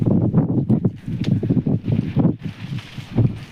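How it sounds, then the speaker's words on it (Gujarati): Cold wind gusts across a hilltop temple at Sonkansari in the Barda hills, buffeting the microphone in a continuous low, rough rumble that swells and dips throughout. "અહીંયા ઠંડો પવન આવે છે એસી જેવો ઠંડો પવન આવે"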